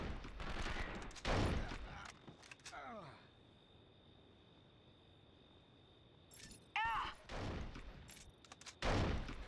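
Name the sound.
gunfire in the video game 24: The Game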